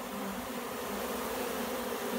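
Honey bees in a robbing frenzy fill the air with a dense, steady buzzing drone. Many insects hum together at close range with no pauses.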